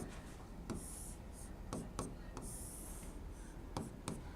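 Pen or marker writing on a board during a biology lesson, with quick scratchy strokes and short taps in an uneven rhythm, close and fairly quiet over a low steady background hum.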